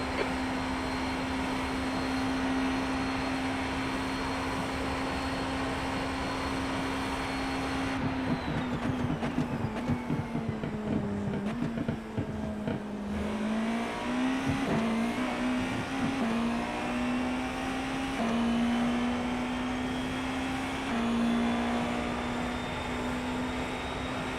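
A GTP prototype race car engine at Le Mans in the iRacing simulator drones steadily at high revs, drops sharply under braking with downshifts, then climbs again through the gears, loud and continuous.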